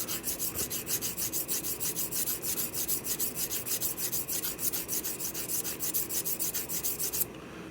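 A scissor blade edge is sharpened with rapid, even rasping strokes, about three per second, close up and steady, then it stops near the end.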